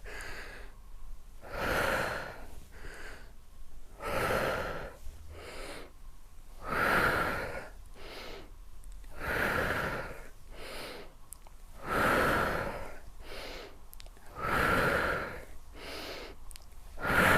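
Deep, slow breaths in and out during a lymphatic drainage workout, each long rushing inhale and exhale repeating steadily and close, with only faint speech.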